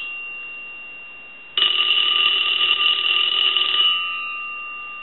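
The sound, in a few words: Automatic Electric Space Saver 83 Art Deco telephone bell ringing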